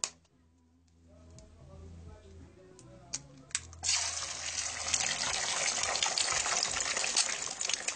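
Tap water gushing into a sink to rinse out a suspected fake egg, starting with faint trickles and a few clinks, then a steady loud splashing stream that continues to the end.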